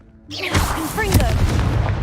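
A loud, booming explosive blast from the Confringo spell in the Hogwarts Legacy video game bursts in and rumbles on, with a voice calling out over it.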